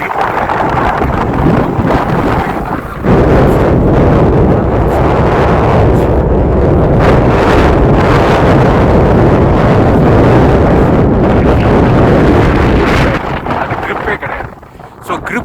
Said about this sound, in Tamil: காற்றுல பயங்கரமாக அடிக்குது பயங்கரமாக அடிச்சு போகவே சான்ஸே இல்லை